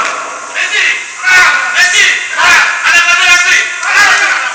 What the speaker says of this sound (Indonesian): Berikan tepuk tangan untuk paslon nomor urut 2.